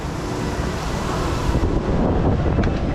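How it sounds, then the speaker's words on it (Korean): A cold-air blower at an outdoor area of Magic Island in Seoul pushes out a steady, rushing stream of air, heard up close as continuous loud wind noise with no break. "바람 나오구나"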